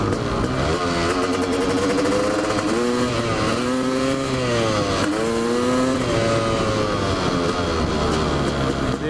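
A CR500 motorcycle engine revs hard as the throttle opens, a loud, continuous two-stroke roar that rises and falls in pitch through several pulls, close by with no talking.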